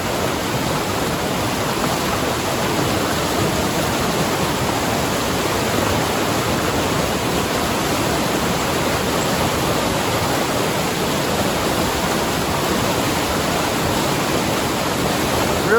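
A river rushes past during a trail crossing on the Pacific Crest Trail, giving a steady, loud, close hiss of churning water that never lets up, with no voices.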